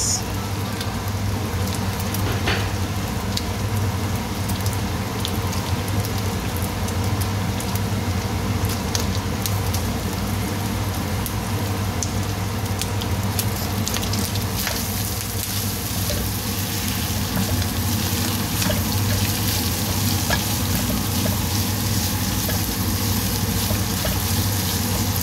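Garlic and onions fry in a pan with a steady, broadband crackling sizzle that runs unbroken throughout, fairly close and even in level, alone without talk.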